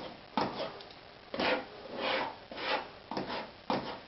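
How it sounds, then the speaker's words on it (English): A palette knife spreads and sculpts oil paint on canvas while painting a mountain, giving six short scraping strokes, close and fairly quiet, separated by brief pauses. "You're sculpting the mountain with the palette knife."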